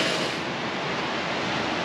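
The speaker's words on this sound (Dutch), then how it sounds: "De zee ook die hoort." Steady, broadband wash of sea waves rolling onto a beach in Cancun, heard alone and continuously.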